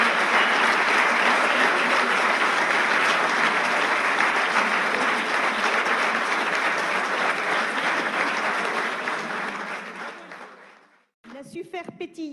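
A large audience applauds at a company convention, a dense, loud and sustained wash of clapping that holds for about eleven seconds, then fades and cuts off abruptly before other sound begins.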